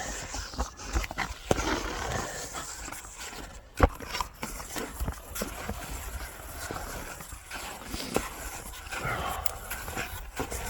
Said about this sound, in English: Hear a little dog in the distance.